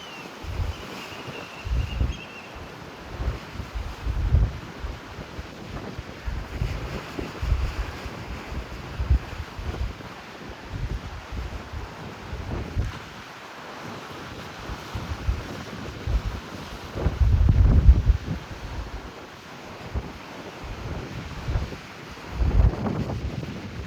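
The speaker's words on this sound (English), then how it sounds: "the wind is just like blowing me all over the place" Strong gusts buffet the microphone on the Half Moon Bay coast in California, with irregular loud rumbling bursts over a constant windy roar for the whole stretch.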